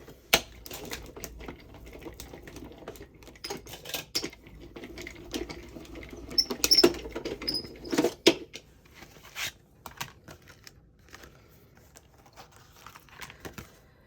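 A Gemini Midi electric die-cutting machine feeds a cut and emboss folder with a shim through its rollers, giving a quiet mechanical whirring with scattered clicks and knocks and a few sharper thuds near the middle.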